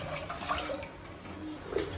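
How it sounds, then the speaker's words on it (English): Water pours steadily into a pan on a lit flame while jackfruit fry is being cooked, a continuous splashing rush with no talk. "Add water."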